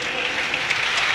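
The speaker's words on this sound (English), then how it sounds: "He's getting an ovation from the crowd here at the Stadium of Light." A football crowd at the Stadium of Light gives an ovation during Sunderland versus Leeds United in the Premier League, a loud continuous wash of applause with a commentator's voice over it.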